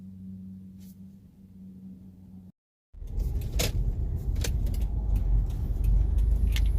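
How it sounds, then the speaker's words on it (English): Cars going by on a road close to a driveway, a steady, fairly loud broadband traffic rumble that swells after a brief silent gap, with no talking. "There are some cars on the road near this driveway"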